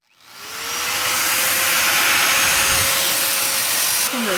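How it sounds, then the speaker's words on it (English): Angle grinder spinning up and cutting on a vehicle's input shaft, a loud sustained whining roar that builds quickly and holds steady, close to the microphone. "you know it's trouble when the angle grinder comes out."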